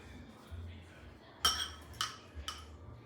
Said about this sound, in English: I'm gonna get a fork here in a second. Kind of whisk that in there to smooth it out.